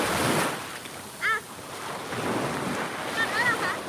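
Sea waves wash onto a beach in a steady rushing surge with wind buffeting the microphone, while faint high bird-like or child-like chirps come through briefly.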